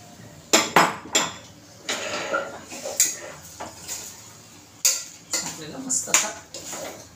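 Washed rice stirred in hot oil in a metal pan for soybean rice, with repeated scraping and clanking of a spoon against the pan over a soft frying hiss, close and fairly loud.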